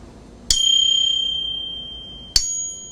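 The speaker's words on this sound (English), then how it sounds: "So this is just a cymbal casting that we have." A cymbal casting balanced on a fingertip is struck twice, each hit a bright, close, ringing metallic ping with sustained high overtones that fade slowly, the second strike arriving about two seconds after the first.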